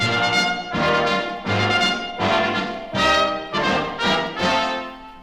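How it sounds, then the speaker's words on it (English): A trumpet plays a lively phrase of bright, punchy notes in quick succession, loud and close, with no voices. "This is the trumpet, leader of the brass."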